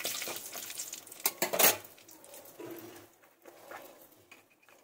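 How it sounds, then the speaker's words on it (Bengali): Bay leaf and two dried chillies hit hot oil in a pan for tempering, with metallic clatter of utensil against pan, a couple of sharp clanks and a light sizzle underneath, close by. "এই যে তেজপাতা আর দুটো শুকনো লঙ্কা ফোড়ন দিয়ে দিলাম।"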